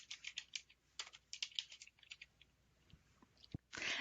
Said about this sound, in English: So for example, I will type in English 101.